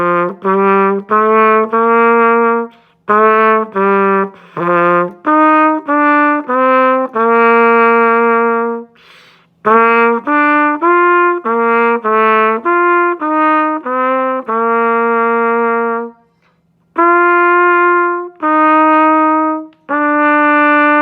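A major scale in two parts forming chords on a brass-like wind instrument, with detached notes and held tones rising and falling in a steady pattern, clear and close with brief pauses.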